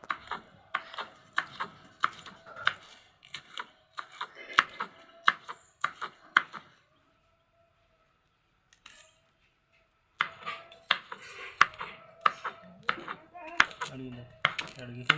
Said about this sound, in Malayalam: പച്ചമുളകും ചെറുതാക്കി തന്നെ അരിയണം കേട്ടോ.